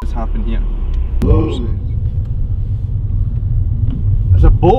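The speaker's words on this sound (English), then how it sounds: "car's coming" A car rumbles past on a road in the Scottish hills near Ben Arthur, a low, close rumble that swells and fades, with people talking over it.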